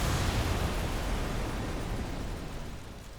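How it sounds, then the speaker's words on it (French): Chernobyl nuclear reactor explosion rendered as a sound effect: a loud, dense low rumbling roar that fills the whole stretch with broadband noise and fades only slightly toward the end. "Une brusque montée de puissance suivie de 2 explosions souffle le couvercle de 1200 tonnes du réacteur"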